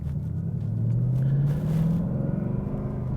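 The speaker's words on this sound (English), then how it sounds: "But the tires are noisy" Tire road noise inside a 2019 Mustang GT Performance Pack 2 on Sport Cup 2 tires while driving, a steady low droning rumble with faint engine hum underneath, continuous and moderately loud.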